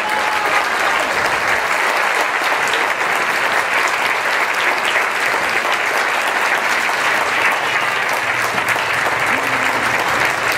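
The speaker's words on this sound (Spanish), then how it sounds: "en reconocimiento y un fuerte aplauso" An audience at a book fair talk gives loud, sustained applause, with dense continuous clapping throughout.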